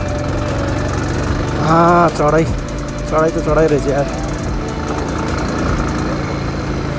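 A motorbike engine runs with a steady, loud, knocking chug while riding uphill on a rough forest path near Hill Park, with someone talking over it.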